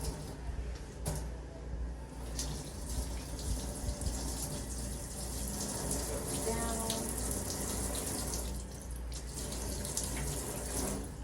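Tap water runs steadily into a sink as hands and forearms are rinsed, a continuous splashing flow for the whole stretch with a brief word spoken over it.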